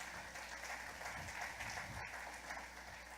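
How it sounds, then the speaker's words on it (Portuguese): A church congregation applauds during a Portuguese-language Sunday school service, with steady, continuous clapping from many hands at an even level throughout. "Você pode aplaudir ao Senhor novamente pela vida do nosso pastor?"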